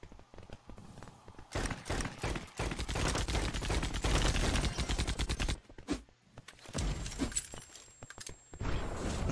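Pistol fire in the online shooter EV.IO: dense bursts of rapid, sharp gunshots in quick succession, with brief gaps, some shots nearer and louder than others, no talking.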